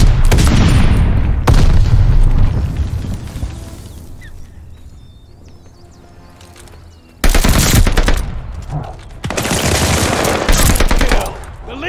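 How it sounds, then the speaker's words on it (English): In the Call of Duty Vanguard video game on PC, a tossed grenade explodes with a heavy boom amid rapid machine-gun fire, loud near bursts that fade into a quieter lull before gunfire erupts again in long rattling volleys. "Tossing grenade."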